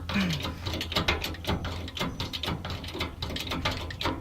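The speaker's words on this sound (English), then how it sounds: "then you just start jacking. And you can see I can raise this up." A jack lifts a tiny house trailer frame with a quick, irregular run of clicking ratchet strokes and metallic clanks. Several faint vocal sounds are heard alongside the mechanism.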